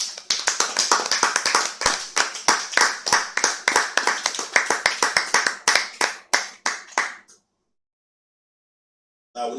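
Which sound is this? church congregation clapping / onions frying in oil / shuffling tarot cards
church congregation clapping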